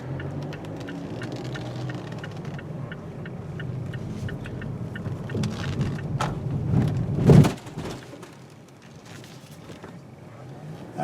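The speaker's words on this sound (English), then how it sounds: "So you can actually hear cars from the sides of the car." Inside the cabin of a 2014 Mazda6, a steady low road rumble carries the noise of outside traffic, and one passing car swells to a loud whoosh before fading back to the quieter hum.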